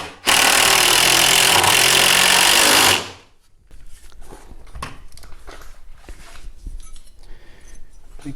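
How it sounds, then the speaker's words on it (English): A power driver runs screws straight into a timber stud wall, a loud sustained whir for about three seconds, then quieter scraping and handling knocks of wood and tools. "because this is the first one, we can drive the screws straight in"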